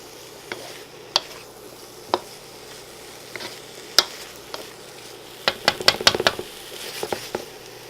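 Carrots and sweet potato sauté in a pan with a steady sizzle, punctuated by sharp clicks and scrapes from stirring that grow busier toward the end.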